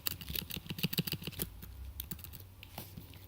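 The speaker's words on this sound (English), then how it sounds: "I can use again the keyboard shortcuts to go to another frame" Rapid, uneven keystrokes on a computer keyboard as shortcuts are entered in a cell tracking and segmentation tool, close and clear, with bursts of clicks thinning out toward the end.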